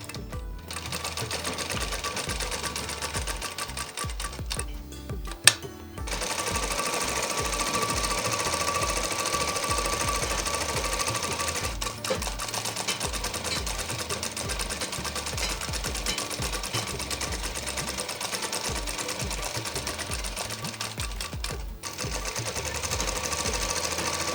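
A sewing machine double-stitches the front edge of a kurti hem, running loud and continuous in a rapid mechanical chatter with one brief stop near the start.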